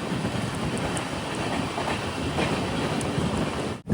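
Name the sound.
Matsyagandha Express train running, clickety-clack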